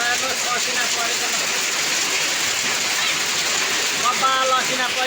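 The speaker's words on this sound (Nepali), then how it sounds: "82 साल वैशाख 2 गते नै असिना बर्सिएको छ" Hail pelts down in a dense, continuous hiss and patter on surfaces, loud and unbroken throughout, with a faint voice briefly audible beneath it.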